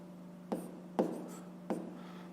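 A fraction being written by hand, three short separate pen strokes scratching on paper over a faint steady hum, quiet and close, with no talking.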